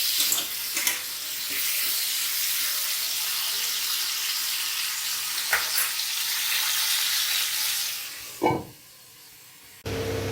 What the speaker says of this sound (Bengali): এখানে এই যে মশলাটা কষাতে দিয়েছি